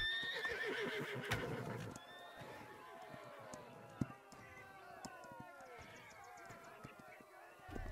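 A horse whinnies loudly at the start, followed by rhythmic galloping hoofbeats and scattered clicks in the video game Holdfast: Nations at War, with a voice talking over it.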